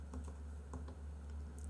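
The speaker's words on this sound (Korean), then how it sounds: "제 키보드 다 들어가요." Computer keyboard keys clatter in quick irregular clicks during a livestream, fairly faint over a steady low electrical hum, with no one speaking.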